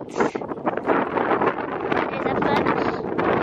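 Strong wind blowing across a harbour full of sailboats, a steady roaring gust buffeting the microphone with constant broadband rush and no clear pauses.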